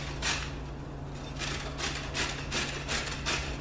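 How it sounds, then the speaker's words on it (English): Organic carrots rubbed against a grater in a series of rhythmic scraping strokes, about one every half second, heard close and fairly loud over a low steady hum. "So we're going to grate the entire batch."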